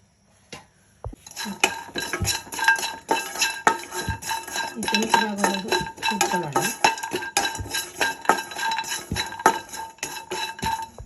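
Dry coconut being roasted in a pan for moringa-leaf chutney powder, stirred with a metal spoon: repeated close scraping and clinking against the pan in an irregular rhythm, with someone speaking partway through.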